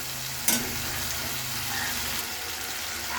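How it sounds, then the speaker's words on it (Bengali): Tomatoes with turmeric sizzling in a pan for a Bengali katla fish kalia, a loud continuous frying hiss near at hand, with a sharp scrape of stirring near the start and no talk. "হলুদটা দিয়ে নিলাম, এভাবে নাড়িয়ে দিচ্ছি আবার।"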